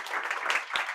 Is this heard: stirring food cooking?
no